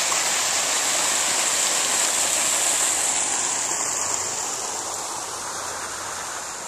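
Water fountains splash steadily in an outdoor sculpture garden on a rainy day, a continuous hiss of falling water that fades slightly toward the end, with no voices.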